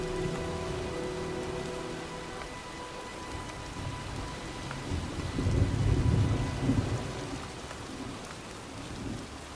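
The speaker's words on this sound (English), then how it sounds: "looks like a storm's coming" In the video game Heavy Rain, an approaching thunderstorm brings steady rain with rolling thunder that swells loudly midway before easing, continuous and enveloping.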